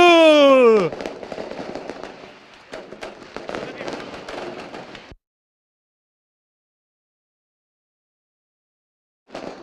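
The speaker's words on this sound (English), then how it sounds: "The fireworks are going ballistic behind us." Fireworks bursting during the podium ceremony at the FIA Karting World Championship, a crackling, popping barrage of sharp bangs under a loud sweeping tone at the start, then cutting to silence before a brief return.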